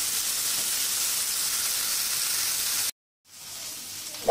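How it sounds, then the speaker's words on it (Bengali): Coral fish fry in hot oil in a pan, a loud, dense, steady sizzle that cuts out suddenly, then returns more softly after a brief silence. "মাছ ভাজা হয়ে গেছে"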